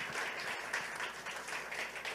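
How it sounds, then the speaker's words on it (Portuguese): A church congregation claps steadily, dense continuous applause from many hands filling the room, alone without speech. "dê um aplauso para a vida desses irmãos aqui."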